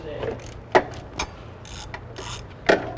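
A 10 millimeter wrench loosens the oil fill bolts on a Subaru WRX STi, giving a few sharp metallic ratcheting clicks with small clanks in between, close up.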